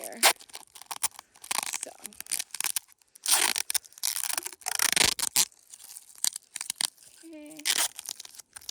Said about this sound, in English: It just needs to keep the aluminum foil on here.